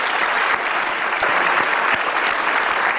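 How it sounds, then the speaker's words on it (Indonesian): A television talk show studio audience claps loudly and continuously for about three seconds, a dense close crowd applause without any talking. "Kasih tepuk tangan dong."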